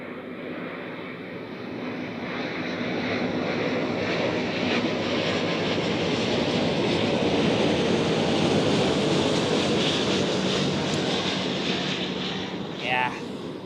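An Airbus A350 airliner at Zurich Airport in fog produces a loud, continuous broadband jet engine roar that holds steady and slowly fades near the end.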